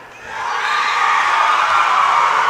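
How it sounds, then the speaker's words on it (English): Spectators at a high school wrestling divisional tournament cheer and whoop loudly for a young wrestler, a dense, steady roar of noise that swells and holds. "the crowd's going nuts for Kai there"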